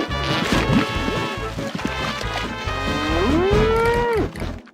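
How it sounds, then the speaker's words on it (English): A cow's frenzied, drawn-out mooing in the video game Conker's Bad Fur Day, loud and close, with rising bellows over thumping crashes and game noise. "we did get her frenzied moo whilst trying to get to safety"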